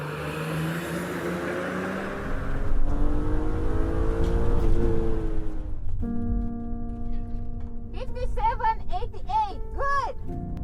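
An Integra on a racetrack revs hard, its engine note swelling loud for a few seconds before giving way to steady tones and quick chirping sounds.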